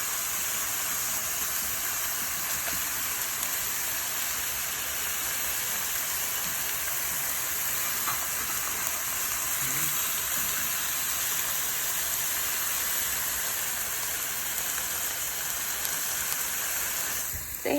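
Pork belly frying in a pan gives a steady, broad hiss and crackle that stays even and close throughout, with no speech over it.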